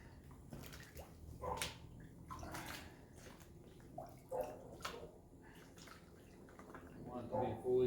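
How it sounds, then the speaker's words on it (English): Water sloshes and drips as a deer hide is lowered into a pickle solution in a tub, a few splashy movements close by while someone talks over it. "Now the hide will go inside of the pickle."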